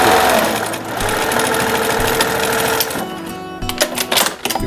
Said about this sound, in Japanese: こうダブルステッチでこう裾の部分だけこうやって縫うんですよ